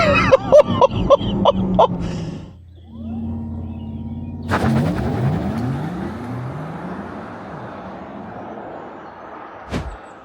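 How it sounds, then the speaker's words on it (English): A Porsche Taycan Turbo electric car launches hard from a standstill with a rising whine and a surge of road and wind noise. A short burst of voice comes before it and an exclamation follows. "Foot on the brake, foot on the throttle, off we go."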